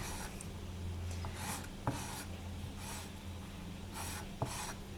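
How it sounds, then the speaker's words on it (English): A tool scraping around a polymer clay earring, soft repeated rasping strokes in short bursts against a quiet hum, with two small sharp taps, close and faint. "I just like to go around the entire thing for the most part and scrape"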